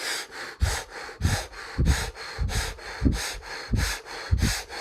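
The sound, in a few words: fire breathing, rapid forceful breathing exercise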